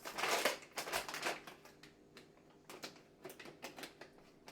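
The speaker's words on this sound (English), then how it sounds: "So we bring out the kitchen scissors." Crisp snipping and crinkling of kitchen scissors cutting through plastic packaging, several cuts in bursts, close by with no talking.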